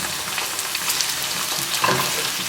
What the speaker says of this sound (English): we're going to fry it for about 10, maybe 8 minutes or so